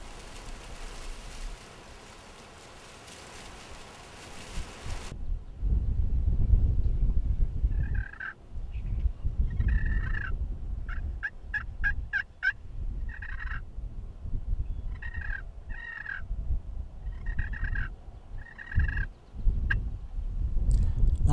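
Repeated wild turkey gobbles ring out across an open field at a moderate distance, coming in bursts with pauses between, over a steady low rumble of wind.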